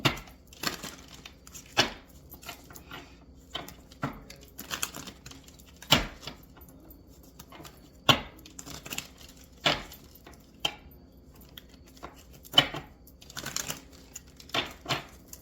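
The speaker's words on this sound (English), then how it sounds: "Let's go ahead and give the deck a little shuffle." Playing cards are shuffled and handled in a quiet room, with sharp intermittent riffles and soft slaps scattered irregularly.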